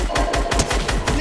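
Rapid automatic gunfire in Fortnite, a loud close burst of about eight evenly spaced shots within a second, with voices speaking over it.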